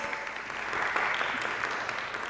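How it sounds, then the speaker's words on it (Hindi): A talk show studio audience breaks into applause. The clapping is moderate and continuous, a soft wash of many hands with no pause. "किस बात पे ताली?"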